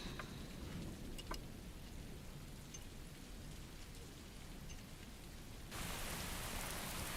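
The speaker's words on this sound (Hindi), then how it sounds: "अरे जल्दी करो, बारिश शुरू हो गई है।" Rain falls steadily as a soft, even hiss of drops that stays fairly faint and grows a little louder near the end.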